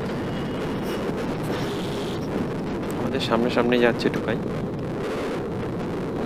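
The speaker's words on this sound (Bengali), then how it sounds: "ঠান্ডা ঠান্ডা হাওয়া দিচ্ছে।" Cold wind rushes across the microphone on a foggy winter morning during a motorbike ride, a steady low roar with a voice talking over it partway through.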